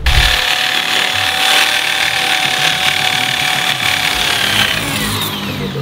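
A power sander whines steadily against wood, a continuous close grinding hiss with a faint motor tone, no voices.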